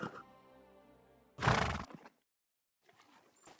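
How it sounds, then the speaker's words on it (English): A horse in the video game Kingdom Come Deliverance 2 gives a loud, strong whinny after a soft tonal snort. The whinny is followed by a brief pause, then faint rustling, all with no talk. "I'll get the horse ready for you and teach you to call him over."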